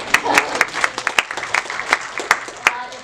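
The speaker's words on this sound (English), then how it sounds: "Yeah, you clap, that's a good time to clap." Audience clapping at a workshop, a thinner scattered applause with distinct individual hand claps standing out in an uneven rhythm, fairly close and moderately loud throughout.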